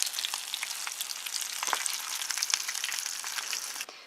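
Fish frying in a pan at an evening riverside camp on the Syr Darya in Kazakhstan, a steady close crackling sizzle with scattered pops, no talk.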